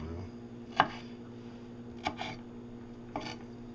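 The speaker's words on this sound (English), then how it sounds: "So I'm just going through and chopping them up, slicing them up a little bit more." Food being chopped with a knife on a cutting board while preparing breakfast, three sharp separate knocks spaced about a second apart over a faint steady hum, close and fairly soft.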